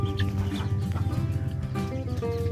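Pet Shamo chickens clucking on a farm, a steady stream of low calls and short clucks close by against a busy, continuous background of other fowl.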